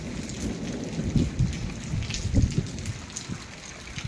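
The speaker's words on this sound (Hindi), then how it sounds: "कितनी तेज बारिश लग गई है, बिजली भी चमक रही है" Heavy rain pours steadily with wind and lightning, a low rumbling roar beneath it, dense and continuous.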